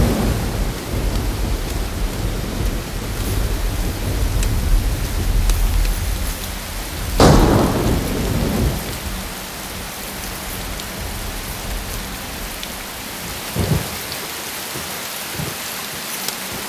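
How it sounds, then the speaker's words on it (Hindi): Heavy rain pours in a steady hiss throughout a thunderstorm, with a loud crack of thunder near the middle and fainter rumbles afterwards, no voices over it. "बारिश आने वाली है"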